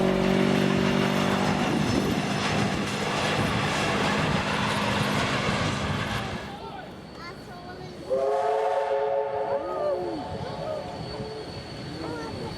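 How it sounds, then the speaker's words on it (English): Steam-era NSW train with a 35 class locomotive hauling an empty train back to Thirlmere from Campbelltown: a loud, steady rumble of rolling stock with sustained whistle or horn tones early on, easing off before further tonal whistle calls rise over the running noise. "seen taking an empty train back to Thelmy after dropping off passengers at Campbelltown"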